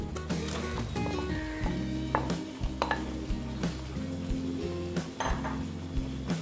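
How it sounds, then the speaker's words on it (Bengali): Potatoes going into a pan for aloo dum, heard as clattering pot and utensil knocks over a steady low hum, with metallic scrapes and clinks recurring close by. "এখন আমি আলুগুলো দিয়ে দিচ্ছি"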